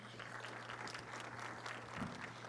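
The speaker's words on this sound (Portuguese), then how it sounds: "Salva de palmas para a professora." A conference audience in Brazil applauds a law professor at a tech forum session on personal data protection, giving steady, dense clapping that fills the whole stretch at an even, moderate level without any letup.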